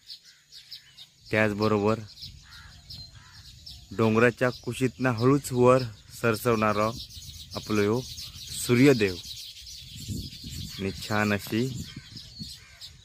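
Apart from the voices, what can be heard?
birds chirping in village at dawn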